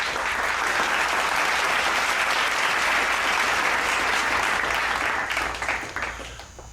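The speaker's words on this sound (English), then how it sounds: "Please give our AP Scholars with distinction a round of applause at this time." An audience at a school academic awards celebration gives a sustained round of applause for AP Scholars with distinction; steady dense clapping fills the room, then gradually thins and fades out near the end.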